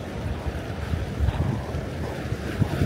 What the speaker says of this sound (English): You get a few wave sounds while he's sitting on his beach in Manhattan.